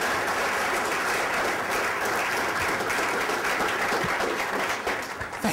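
An audience gives sustained applause after a talk on team building, dense even clapping filling the room for several seconds with no voices over it.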